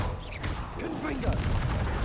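A Confringo blast spell cast in Hogwarts Legacy, heard as a short burst of fiery, crackling impacts that rise over dense game ambience. A voice speaks through the same moments.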